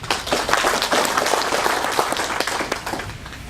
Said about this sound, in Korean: 박수를 보시겠습니다